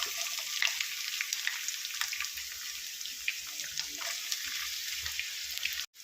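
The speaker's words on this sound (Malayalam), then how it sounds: "എണ്ണയൊക്കെ ചൂടായി വന്നിട്ടുണ്ട് അതിലേക്ക് നമുക്ക് ഇഞ്ചി ഇട്ട് കൊടുക്കാം" Ginger drops into hot coconut oil for a Kerala-style ginger curry, giving a soft, even, continuous sizzle with faint crackles that stays steady throughout before briefly cutting out near the end.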